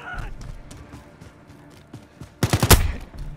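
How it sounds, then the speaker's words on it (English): Gunfire in Call of Duty Modern Warfare: scattered, fairly faint shots ticking away in the background, then a loud, close rapid burst of automatic fire near the end. "Taking fire over here."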